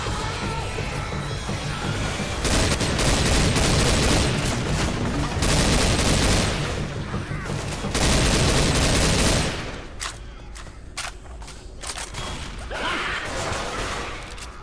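Dense, continuous automatic gunfire from a zombie-shooting video game, loud and relentless with crashing impacts, easing into scattered shots and bursts before swelling again; no voices are heard.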